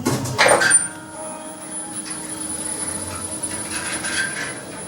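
ThyssenKrupp machine-room-less lift doors slide with a brief louder clunk and whir near the start, then a steady low mechanical hum and faint hiss carry on alone to the end.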